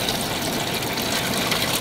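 Steady rushing water pouring continuously into a small pool, a dense even gush like a hose filling a container, close and fairly loud with no talking.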